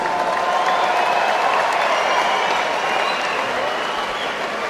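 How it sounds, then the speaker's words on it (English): Crowd applause at a professional cruiserweight boxing event, loud sustained clapping and cheering from a large arena audience filling the whole stretch without a break. "A round of applause for these two fighters."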